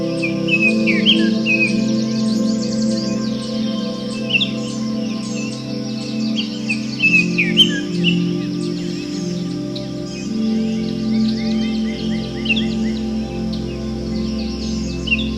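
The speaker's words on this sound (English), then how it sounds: "Okay, so that was the bullfinch." Two bullfinches, a male and a female, call and sing outdoors with soft, piping chirps scattered across the whole stretch, fairly near, over a steady low hum of background noise.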